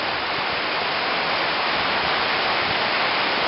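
Floodwater rushing through a creek filled to the brim after heavy rain, a loud unbroken broadband roar of churning water close by and steady throughout.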